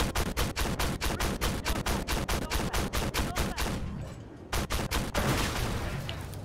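Rapid, loud bursts of heavy gunfire from an enemy tank in the Armored Warfare game, firing in steady repeated shots for several seconds. A short pause follows, then the volley resumes with dense noise.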